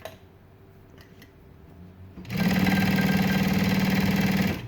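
A Juki DU-1181N industrial sewing machine stitches two layers of vinyl, starting after a quiet pause with a loud, steady, fast mechanical whir and rhythmic needle chatter that runs to the end.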